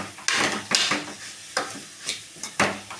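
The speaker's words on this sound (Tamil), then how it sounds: "கோஸையும் நம்ம போட்டுக்கலாம். இதையும் நல்லா நம்ம கிண்டிக்கலாம்." Long-sliced cabbage being stirred in a hot pan for egg fried rice: a handful of loud spatula scrapes and clanks over a soft underlying sizzle, close and without speech.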